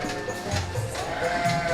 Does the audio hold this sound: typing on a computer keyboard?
no